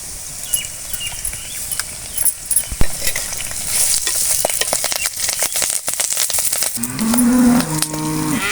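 Garlic and curry leaves frying in oil with chillies, a crackling sizzle punctuated by sharp spatters and stirring knocks, then a low lowing moo near the end.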